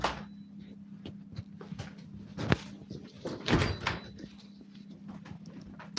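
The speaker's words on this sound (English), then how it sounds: "Shut this door." An indoor door is shut during a home decorating session, with a broadband thud near the middle and a louder bump about a second later over a steady low hum, then small knocks and rustles.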